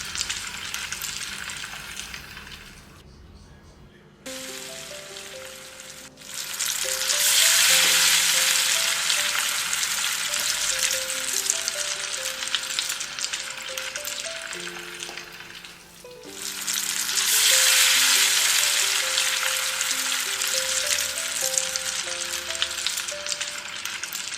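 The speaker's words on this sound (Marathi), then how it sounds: "तर इथे पुऱ्या तळायच्या पहिले मी थोडेसे पापड आणि आळूची पानं तळून घेते" Papad and colocasia leaves frying in hot oil, a loud steady sizzle with bursts of bubbling that swell and fade as pieces go in, alongside a light melodic background tune.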